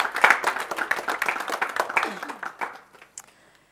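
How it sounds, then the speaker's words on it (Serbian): An audience claps for a school debate team of gymnasium students from Visoko, a dense patter of hands that thins out and fades toward the end, with voices mixed in. "I veliki aplauz za afirmaciju."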